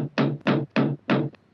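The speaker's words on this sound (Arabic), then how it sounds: "إذا به يسمع صوت طرق على الباب فجأة" Four firm, evenly spaced knocks on a house door ring out close and loud, each with a short resonant decay, followed by a faint fifth tap.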